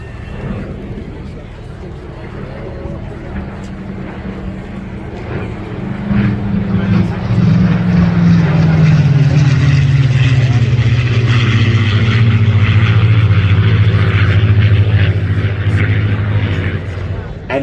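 A Supermarine Spitfire passes at an air show near Shellharbour, its engine a deep propeller drone that swells and drops in pitch as it flies by, loud and close, with a voice talking over it.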